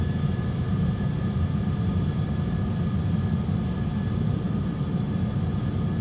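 Airbus A320 jet engines roaring during the takeoff roll on runway 23 at Geneva, a steady, loud, broadband rumble with constant low-end thunder and no speech over it.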